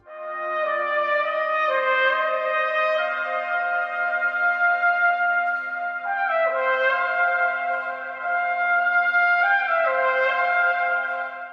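A trumpet plays a sustained melodic phrase in a very reverberant room with the microphone placed far away, the notes smeared and washed together by the long reverb, with no speech.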